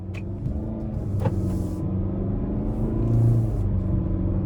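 A 2024 Nissan Altima SR with its 2.5 liter engine pulls away on the road, giving a steady, moderate engine rumble with rising road noise from inside the cabin and no talk.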